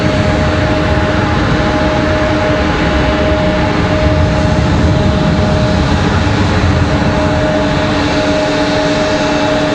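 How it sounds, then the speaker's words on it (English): McDonnell Douglas MD-11 engines roar loudly at an airport, a steady, dense jet rumble with a constant tonal whine held for the whole stretch, close and unbroken. "you guys can hear that MD-11 pretty well"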